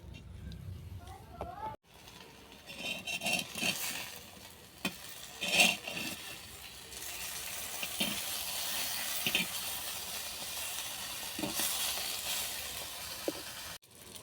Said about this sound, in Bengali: এবার আমি এগুলোকে সেঁকতে দেবো। 2 পিঠ ভালো করে সেঁকে নেব যতক্ষণ না পাতাগুলো বাদামি হচ্ছে।